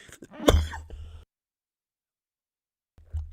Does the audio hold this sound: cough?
yes